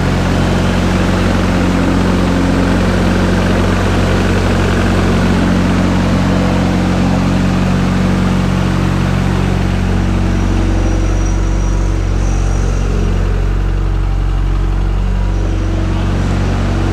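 A car engine fitted with new Gen 2 GTX 3071 turbos runs continuously, a loud, dense low rumble with a steady drone and no pauses, alone with no voices.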